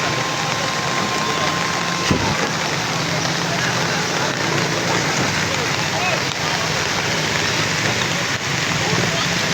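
Heavy rain pours over Rawalpindi during flooding near a bridge, a loud, dense, unbroken hiss of water with a faint tone and rumbles underneath, and a voice talks at points.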